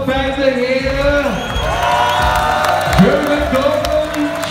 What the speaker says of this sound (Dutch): Dames en heren, mag ik een groot applaus voor beide heren.